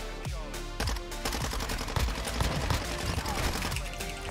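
Rapid gunfire in Call of Duty: Modern Warfare II, sharp repeated shots over a dense, busy game mix with background clatter.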